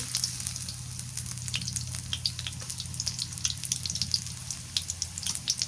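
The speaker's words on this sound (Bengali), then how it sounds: "মাছটা আগে কষাই নিব তো তেল দিয়ে দিই তেলানি করে কষাই" Fish sizzles in hot oil in a pan, a continuous close crackle with scattered sharp pops and spits over a low steady hum, and no one talking.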